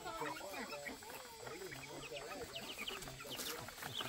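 Chickens being fed cluck and chatter in a quick, uneven run of calls, faint and somewhat distant, mixed with voices in the background.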